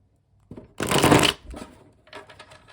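Tarot cards being shuffled up close: one quick, loud riffle burst followed by a few softer shuffling rustles.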